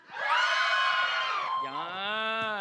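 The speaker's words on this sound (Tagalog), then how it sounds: "Hiyawan sa lahat." A live audience cheers, whoops and shouts together on cue, a loud sustained roar of many voices that eases briefly and then swells again.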